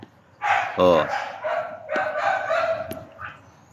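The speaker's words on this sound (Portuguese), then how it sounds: "Agora um cachorro que nunca mais para de latir." A dog barks repeatedly in sharp, separate yaps close by, spaced through the moment while someone speaks in Portuguese between and over the barks.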